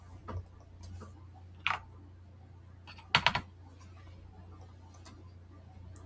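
Keys on a computer keyboard being tapped in a few short, sparse bursts, with a steady low hum underneath in a quiet room.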